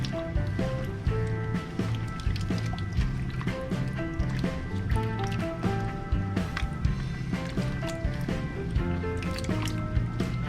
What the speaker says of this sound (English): Once I dump them in here, I'm just gonna pass my hand through them